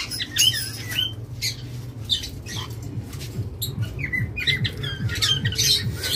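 Local-breed pet birds squawk in a loud, busy chorus of sharp, repeated calls close by, with a low steady hum running underneath.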